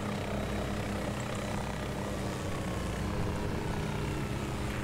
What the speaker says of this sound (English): That helicopter's really loud.